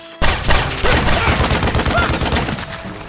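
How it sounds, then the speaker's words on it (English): A rapid burst of loud, close gunshots rings out in a dense, overlapping fusillade, cracking repeatedly for a few seconds before tapering off. "Who's shooting?"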